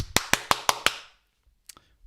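Five sharp, evenly spaced hand claps sound close by, followed by a short pause and one last faint clap.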